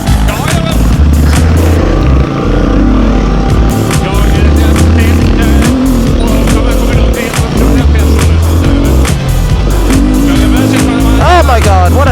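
A 2021 Beta 390 RR dirt bike engine roars loud and close on a trail ride, revving and shifting constantly with wind rush, and a rider's voice may break in near the end.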